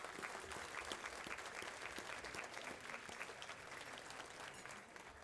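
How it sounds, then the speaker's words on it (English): Sustained applause from an audience at a Hall of Fame awards ceremony honoring athletes, dense steady clapping filling the room at an even level throughout, with no talk over it. "please join me in another big round of applause for each and every one of these phenomenal athletes"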